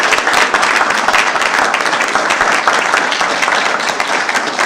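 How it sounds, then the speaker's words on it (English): An audience at a public hearing applauds steadily, dense clapping from many hands filling the whole stretch at a loud, even level. "let's do some applause."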